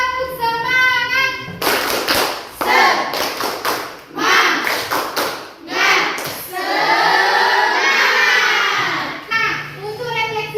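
An Indonesian school class does the "tepuk semangat" rhythmic clapping chant, bursts of clapping alternating with sung call-and-response voices, loud and close.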